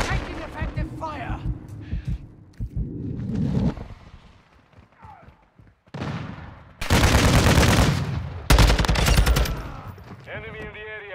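Video game battle with bursts of Taq-56 rifle fire, loud rapid volleys broken by short quieter gaps, with game voices calling out between the shots.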